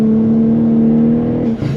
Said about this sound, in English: Here's our downshift.